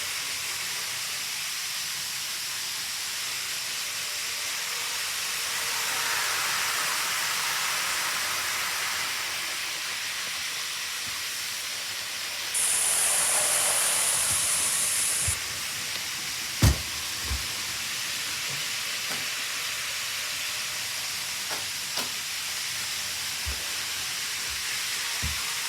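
A blue Series 223 model train runs along a layout toward a station, giving a steady hissing, rushing rumble with a brief brighter whine midway and a few faint clicks near the end; no one speaks.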